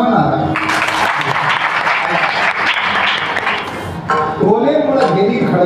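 Audience at a Marathi kirtan at a Hanuman temple in Krishnanagar breaks into loud, sustained clapping for several seconds, with a voice singing or calling over it near the end.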